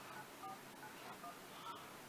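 Telephone number being dialed on a phone during a live call, a quick run of short DTMF key tones heard faintly over a steady background hiss.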